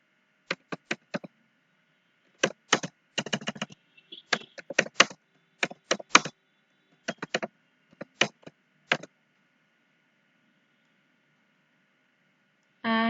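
Short bursts of quick, crisp key clicks from a computer keyboard while entering text in Canva, coming in irregular clusters with quiet gaps between, close and alone, then a brief different sound at the very end.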